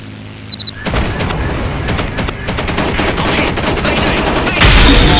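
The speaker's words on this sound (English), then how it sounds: "Taking heavy fire!" Heavy machine gun fire rattles continuously in War Wings, an aerial combat game with an F4U-4 Corsair, loud and close after a few short opening pops, with a brighter surge near the end.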